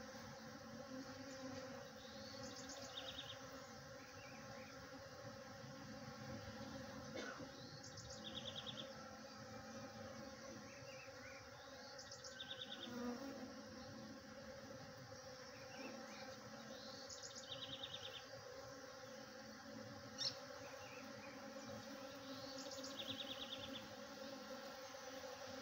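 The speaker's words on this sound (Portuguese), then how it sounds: "Não só tem a abelha Europa, mas a abelha sem ferrão." European honeybees and stingless bees buzz around the flowers of a fruit-laden jabuticaba tree, a continuous faint droning hum with a few louder passes close by, plus occasional small bird chirps in the background.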